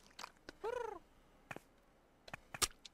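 A cat makes a short rising-and-falling meow in the middle of scattered clicks, taps and soft household noises, heard close and moderately loud with no one talking.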